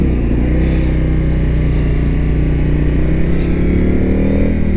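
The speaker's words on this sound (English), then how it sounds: "Good amount of engine braking out of this motor. Brings you down to a stop pretty good." Indian FTR S motorcycle engine braking, a loud, close, continuous engine drone with the pitch sliding gradually downward as the bike slows, no speech over it.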